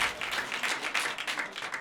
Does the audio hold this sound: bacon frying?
no